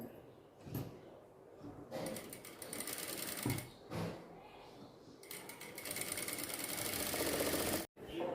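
Sewing machine stitching a small doll dress, with close, rapid mechanical whirring in several bursts separated by short pauses and a brief clunk near the end.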